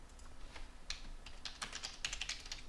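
Rapid clattering keystrokes on a computer keyboard while entering salon appointment notes, a steady run of close, crisp taps with brief pauses, no talking.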